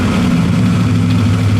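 A 1963 Pontiac Catalina with a 421 V8 and four-speed idles high, a steady, loud, close rumble with an even low throb throughout and no voices.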